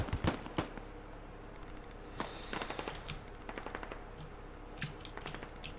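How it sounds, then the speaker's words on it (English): Mortars are launched in a string of sharp, cracking reports: a few close together at the start, then scattered pops and short bursts spread across several seconds, moderately distant. "Mortars are getting launched."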